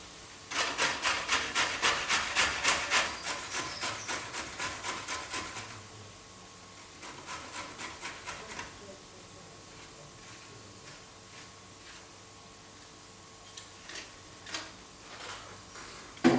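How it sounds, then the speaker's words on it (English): Green plantain is rubbed against a grater in quick rhythmic rasping strokes, loud and close for several seconds, then softer, sparser scrapes follow with pauses between them. "now I'm going to grate all of this on"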